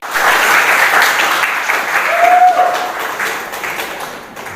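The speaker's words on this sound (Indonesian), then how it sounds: "Yuk kita kasih aplaus untuk Mas Zaki." A classroom group applauds a student named Zaki, a dense burst of many hands clapping together that stays loud and steady for several seconds before tapering slightly.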